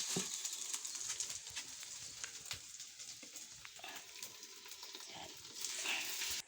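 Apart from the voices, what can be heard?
stirring glutinous rice in a frying pan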